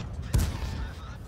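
A single cannon shot from an AMX 13 57 tank in World of Tanks booms close and sharp, then decays into a rumbling tail, fairly faint overall.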